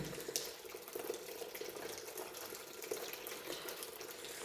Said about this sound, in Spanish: Vamos a soltar un poco más el agua. Y esto sería lo que es el flujo turbulento.